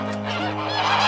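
Cartoon geese honk loudly and repeatedly in an animated children's series as birds fly south in autumn, a close chorus of overlapping nasal calls.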